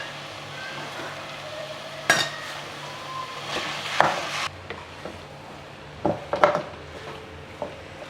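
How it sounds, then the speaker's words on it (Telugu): Cooled cooked rice for coriander rice tossed in a pan over high flame: a low steady sizzle under scraping, with sharp clinks and knocks of a spatula against the pan at irregular moments. "ఇప్పుడు అన్నం వేసిన తర్వాత కొంచెం హై ఫ్లేమ్లో పెట్టి కొంచెం బాగా వేయించుకోవాలి"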